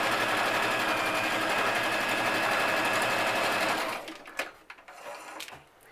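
A sewing machine stitches a fabric mask, giving a steady, close, continuous mechanical whir for about four seconds before stopping abruptly, followed by faint handling noises.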